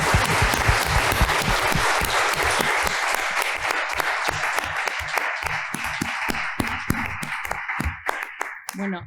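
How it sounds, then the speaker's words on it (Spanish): Audience applause fills the hall at the closing of an international architecture congress, steady dense clapping that thins out toward the end while a voice speaks over it. "un fuerte aplauso para ellos."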